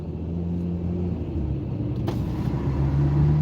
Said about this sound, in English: Yeah, that's a manual truck.